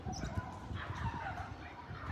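Couple of dogs fighting at a distance, with a run of faint, scrappy barks and yelps coming in uneven bursts over low background rumble.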